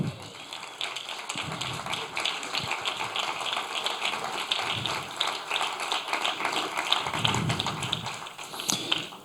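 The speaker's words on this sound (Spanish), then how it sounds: "Dale aplauso al Señor." A church congregation claps during a Spanish-language sermon on family, with dense, steady applause filling the room for several seconds and brief bits of voice mixed in.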